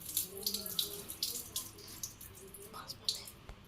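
Tap water runs into a kitchen sink while tomatoes are rinsed by hand, a soft continuous splash broken by small drips and clinks, faint and close with no talking.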